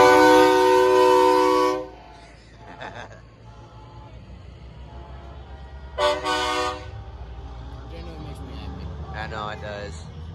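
A loud, chord-like Alco train horn blast opens at a truck show light parade, then a second shorter blast follows a few seconds later, with faint voices and rumble in between.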